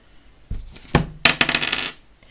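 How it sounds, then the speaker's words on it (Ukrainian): A die is tossed onto a game board during a tabletop game, giving a run of sharp clattering knocks and rattles that settle within about a second and a half, close and alone. "Я кидаю кубик за наших персонажів."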